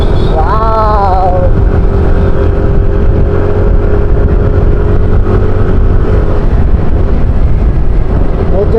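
A motorcycle ridden by a rider used to an e-bike on a road in Nagcarlan, Laguna, its engine droning loud and steady with a rising whine early on, under continuous talk.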